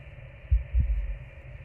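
Heartbeat sound effect in the space exploration video game Voyager-19, a deep low thump pair repeating over a steady hum, muffled and throbbing with no speech.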